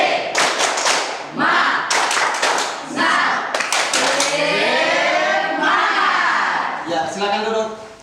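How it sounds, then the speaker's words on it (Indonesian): A classroom of standing students performs a rhythmic spirit clap led by their teacher, sharp bursts of group clapping in a patterned beat mixed with shouted chanting voices. "Kita melakukan tepuk semangat."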